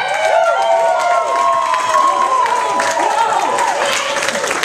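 A theater audience at an amateur performance night bursts into loud, sustained applause with cheers and whoops mixed in.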